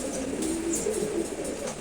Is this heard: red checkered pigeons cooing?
yes